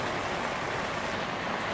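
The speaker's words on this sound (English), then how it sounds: "even in a heavy rain, the gutter guards work beautifully." Heavy rain pouring onto a house roof and gutters fitted with gutter guards, a dense continuous hiss of falling water throughout, with no speech.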